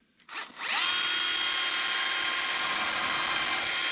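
Power drill with a wood bit boring into a wall, a brief rising whine that climbs quickly to a loud, sustained high-pitched drilling sound.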